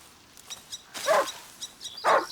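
A dog in the video game A Plague Tale: Innocence gives two loud barks with a growling, whimpering edge. The barks are about a second apart, with a few quieter yips before them.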